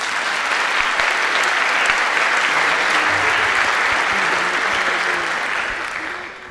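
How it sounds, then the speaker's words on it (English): Sustained applause from a concert audience for a high school wind ensemble, a dense, steady roar of clapping that holds evenly and tapers slightly at the end. "So why don't you give them another round of applause, please."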